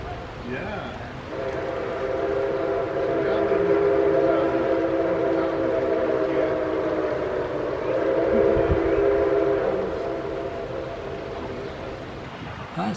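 A Nickel Plate train approaches on its rails, sounding a long, loud, sustained whistle chord for most of the clip over a steady rumble of wheels, with a brief break before the whistle resumes.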